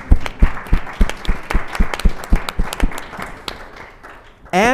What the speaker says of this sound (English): please join me to give a round of applause to all our panelists here